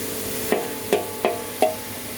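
Krachiao flowers stir-fried with minced pork and oyster sauce in a pan, giving four evenly spaced scraping strokes of a spatula over a steady low sizzle, with no voices.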